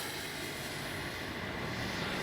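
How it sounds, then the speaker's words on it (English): A Flyfans Baltic Bees 64mm L-39 RC electric ducted-fan jet rolls out for takeoff with a steady, loud, high-pitched rushing whine that swells slightly toward the end, heard close and alone. "we're going to take off with takeoff flaps"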